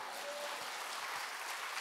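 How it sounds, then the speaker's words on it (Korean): A church congregation at an evening revival service claps together, a dense steady wash of applause lasting about two seconds, moderately distant. "하나님께 영광의 박수예요."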